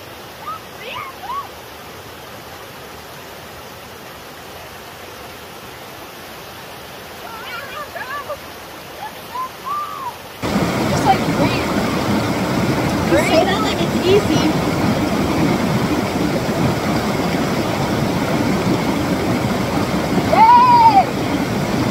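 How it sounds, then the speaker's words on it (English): Root Creek, a cold Colorado mountain river, flowing in a steady broadband rush that grows louder and closer partway through, with people talking intermittently over the water. "now we made it down to this river"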